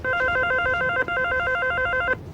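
An office telephone rings in two rapid electronic trills, loud and close, cutting off abruptly.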